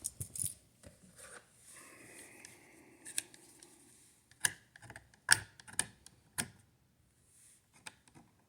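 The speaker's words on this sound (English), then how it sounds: "There's some paint here, I'm going to scrape it off." Paint is scraped from the green ground screw of a wall outlet, producing close, dry scratching and a string of sharp metallic ticks and clicks in short irregular bursts, with quiet gaps between.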